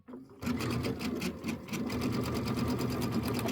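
A sewing machine stitching quilt blocks runs in a close, steady, rapid mechanical chatter after a brief quiet start, continuing without pause.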